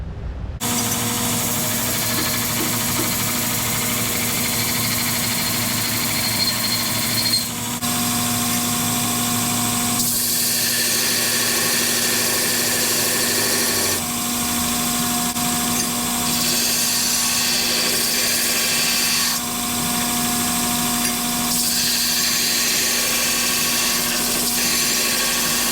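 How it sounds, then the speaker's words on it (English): Steady, loud grinding of CNC-cut steel parts with a constant motor hum, continuing for the whole stretch with slight shifts in pitch and intensity as the metal is worked. "grind some of the parts for the tilting table"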